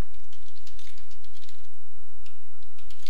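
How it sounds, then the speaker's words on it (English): Rapid typing on a computer keyboard while entering markup in translation software, a steady clatter of close, crisp keystrokes with no one speaking. "and start typing"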